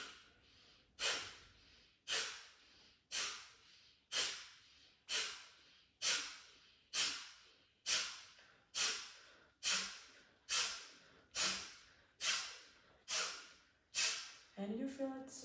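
Slow, deliberate yoga breathing, each deep inhale or exhale swelling and fading about once a second in a steady chain of roughly fourteen breaths, close and airy with no talk.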